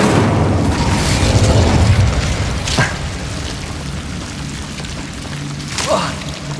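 An Incendio fire spell bursts in the Hogwarts Legacy video game, giving a deep booming blast with rumbling low end, followed by a couple of sharper pops a few seconds apart.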